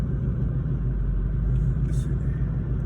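Steady low rumble of a car being driven, heard from inside the cabin, a constant engine and road drone with no breaks.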